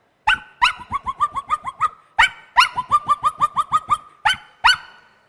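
A voice mimics a Pomeranian dog barking on stage, giving bursts of quick, high, yappy barks in two rapid runs, each opened by a sharper yelp, loud and close with no other sound.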